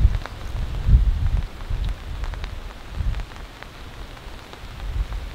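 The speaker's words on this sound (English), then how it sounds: "It is now raining." Steady rain patters on a surface during a thunderstorm, with soft low rumbles and a few louder thuds of drops, no voices.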